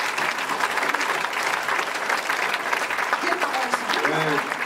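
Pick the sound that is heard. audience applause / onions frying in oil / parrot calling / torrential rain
audience applause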